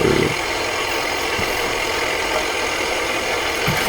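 An old tractor engine in Farming Simulator 2015 runs at a steady idle-like drone, continuous and fairly loud, with faint rattling knocks now and then.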